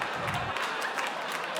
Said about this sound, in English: The people that are clapping,